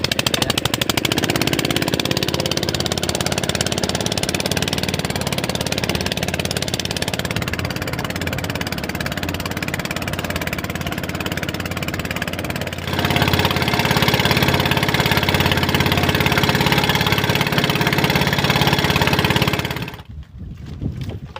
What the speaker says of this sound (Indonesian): cara menghidupkan mesin ketinting